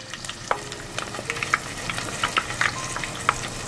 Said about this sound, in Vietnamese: Mình chiên lần lượt cho đến hết nha.